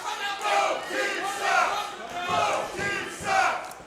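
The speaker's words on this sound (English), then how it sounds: "I think these fans are chanting something like, our crowd sucks or something" Wrestling fans at a Houston independent wrestling show chanting in unison, a rhythmic crowd chant rising and falling about once a second, loud and crowded.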